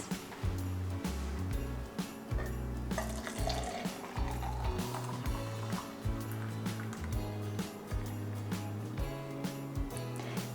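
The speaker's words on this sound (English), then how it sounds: "It gets a little foamy. So I like to, hear that sizzle?" Jellied cranberry sauce from a can sizzling and foaming in a hot pan, a steady crackling fizz with busy stirring clatter throughout, moderately loud and close.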